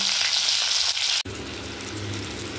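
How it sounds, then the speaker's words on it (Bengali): Cauliflower frying in a pan gives a steady, close sizzle that dips abruptly partway through, then carries on as a softer, denser crackle with no voices. "এখানে ফুলকপি ভাজতে বসিয়ে দিয়েছি"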